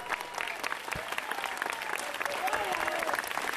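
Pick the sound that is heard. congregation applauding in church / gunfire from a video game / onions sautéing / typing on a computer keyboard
congregation applauding in church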